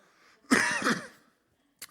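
A single harsh cough bursts out up close, rasping for about a second, followed by a brief pause and a short second cough.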